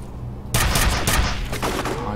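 Gunfire in the shooter game F.E.A.R. opens as a sudden loud burst of rapid shots and rattling impacts after a quiet start, then thins into scattered fainter shots.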